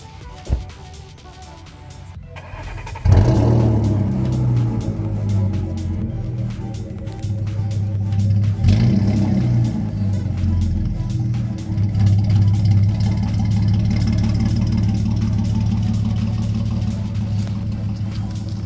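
A car engine starts with a sharp burst, then settles into a steady, loud idle rumble with a brief rev partway through.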